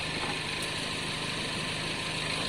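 Honda Deauville motorcycle engine running after a carburetor clean, with fuel pump and battery troubles, a steady close idle hum and vibration, even and unbroken.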